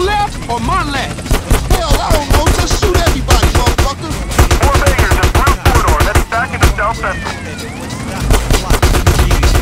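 A GTA San Andreas shootout with loud, rapid bursts of gunfire and machine-gun fusillades, dense and continuous, with a siren and music-like tones in the background.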